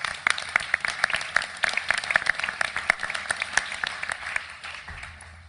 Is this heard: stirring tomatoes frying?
no